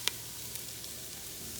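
Vegetables with ginger, onion and garlic sizzling in a pan as they brown, a faint, steady frying hiss with a few small pops.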